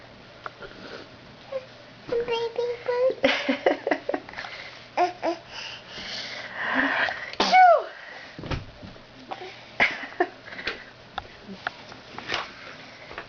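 A small child sneezes amid babbling, sniffling and giggles, brief sharp bursts close to the microphone between bits of baby talk and an adult voice.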